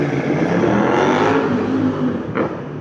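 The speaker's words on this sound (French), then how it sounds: "ça c'est pas l'orage, c'est une moto." Loud, steady engine drone with a rising whir as a motorcycle passes close by, filling the whole stretch.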